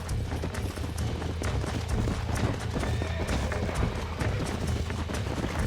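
Continuous rhythmic clip-clop of a horse's hooves in the Red Dead Redemption game, close and steady throughout, overlaid with game ambience and no talking.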